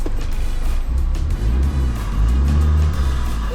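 A 4WD engine revs hard as the vehicle tries to take off in soft beach sand in low range, a steady loud close-up drone that surges and climbs near the end.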